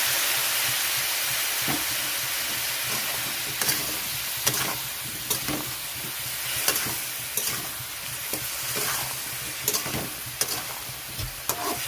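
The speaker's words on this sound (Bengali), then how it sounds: "আগের থেকে গরম জল করে রেখেছি এখানে দিয়ে দিচ্ছি একটু গরম জল মশলাটা কষানোর জন্য" Hot water poured into spice paste frying in a pan for a fish and elephant foot yam curry, giving a steady loud sizzle and hiss throughout, broken by regular sharp scrapes and taps of stirring, with no talk.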